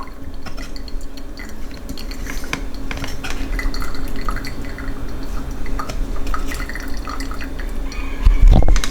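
Elderberry syrup with cinnamon being strained in a kitchen: liquid drips and trickles under light clinks of a spoon and dishes, close up, with a louder clatter near the end.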